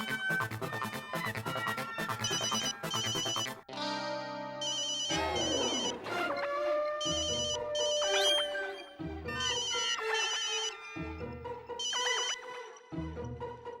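A mobile phone ringtone plays in an office, a loud melodic tune that repeats for about fourteen seconds with brief pauses and no talking.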